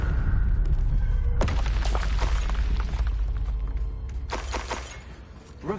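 Confringo spell explosions from Hogwarts Legacy gameplay: heavy booming blasts with shattering thuds, a sharp crack partway through and another burst near the end over continuous rumbling game noise.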